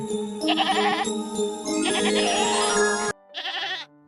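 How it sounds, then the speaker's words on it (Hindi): Goat bleating in a Hindi storybook cartoon, two drawn-out wavering bleats: a long loud cry over background music, then a shorter one after a brief pause. "यह तो बकरी के चिल्लाने की आवाज है,"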